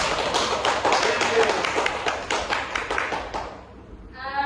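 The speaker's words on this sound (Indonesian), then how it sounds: "Oke, tepuk tangan." Students in a classroom clap their hands in a brisk, dense burst for about four seconds before it stops abruptly and a voice begins.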